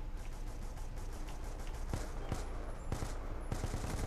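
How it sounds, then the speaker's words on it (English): Repeated rapid gunfire from a gun in a video game, bursts of shots cracking out in quick succession at moderate distance, fairly quiet overall with a steady background rumble. "I don't even know what the threshold for this gun is, like when I should stop shooting. I just shoot."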